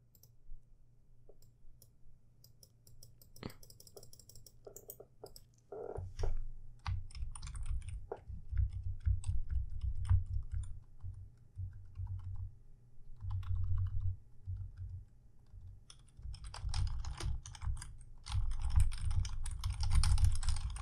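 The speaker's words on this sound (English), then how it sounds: "I'm literally hitting random keys to do something!" Computer keyboard keys pressed at random in irregular clusters of clicks, close and moderately loud, over a steady low background rumble that swells partway through.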